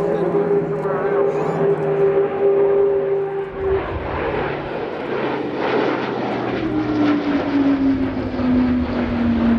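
Airbus A400M military transport aircraft flying and speeding up at an air show, a loud continuous propeller-engine drone whose pitch drifts lower midway, with a voice commentating underneath.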